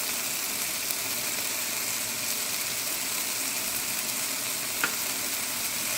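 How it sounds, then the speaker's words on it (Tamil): Cumin powder, Kashmiri chili powder and garam masala sauté in a pan for mushroom masala, giving a steady, close, even sizzle throughout. "நல்லா வதங்கட்டும்."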